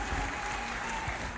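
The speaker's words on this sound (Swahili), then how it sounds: "Wapigieni makofi mazuri." A church congregation applauds for people celebrating their birthdays, a short burst of steady, moderately quiet clapping with no speech.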